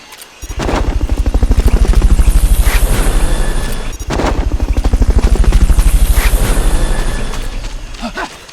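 Loud, close helicopter rotor thumping steadily in Metal Gear Solid: Peace Walker, with a short break around four seconds before the pulsing resumes.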